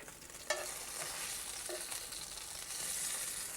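Eels frying over an open fire give a steady, crackling sizzle with a few sharp pops, continuous and fairly close, with no voices.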